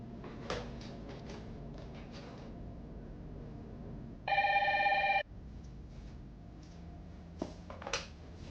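A telephone rings once in a quiet indoor room, a single electronic ring of about one second amid soft handling noises.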